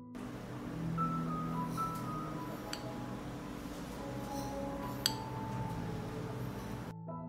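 Glass jars clink faintly on a kitchen counter while salt is spooned in, with a few sharp ticks and light taps scattered over quiet room noise.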